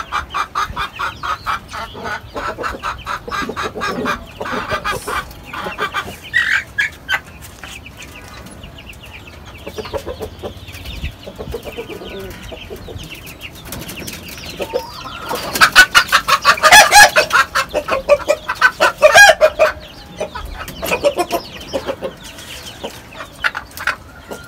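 Laying hens on a rooftop garden cluck repeatedly in bursts, with louder, denser squawking and clucking clustered toward the end, a rooster-like call mixed in, and no talk.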